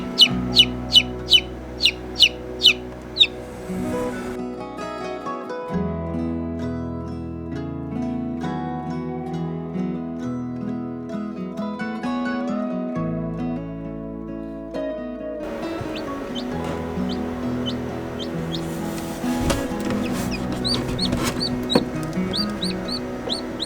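Freshly hatched chicks from eBay eggs cheep in a rapid string of high peeps at first, then fade under a steady musical backing before their peeping returns near the end.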